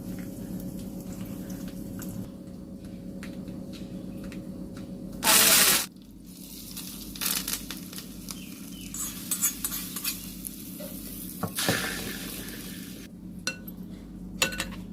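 Mustard seeds splutter in hot coconut oil in a frying pan, a close, low sizzle with scattered crackles and pops, one brief loud burst, and occasional utensil clinks, with no talking.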